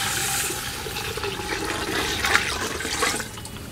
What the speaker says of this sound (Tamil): இப்போ பாரு, ரசத்துக்கு அரைச்சி வச்சுருக்க புளி ஊத்துறோம்